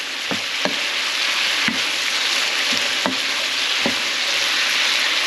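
Shrimp sautéing in sauce in a pan for glass noodles with bok choy, a loud, steady sizzle punctuated by several sharp stirring knocks and scrapes at irregular intervals.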